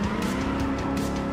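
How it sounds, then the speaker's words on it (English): A fast car driving in Cyberpunk 2077, its engine a loud, steady, close roar with tire noise throughout the short stretch and no talking. "Whoa, this car is really fast."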